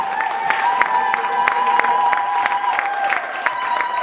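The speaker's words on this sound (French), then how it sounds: "Est-ce qu'on peut acclamer pour Jésus? Poussez de grand cri de joie." A church congregation at a revival service claps steadily in rhythm for Jesus, a dense crowd of hands with crisp, evenly spaced beats over a sustained musical tone and a murmur of voices.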